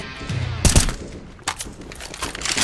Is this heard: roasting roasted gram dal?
no